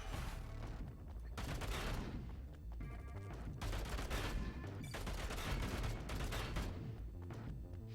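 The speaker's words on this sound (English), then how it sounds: "This is some good gun sounds, though." Rapid gunfire from the video game Bunker Punks bursts in dense, overlapping volleys, with sharp repeated shots and heavy low thumps over a continuous loud wash of battle noise.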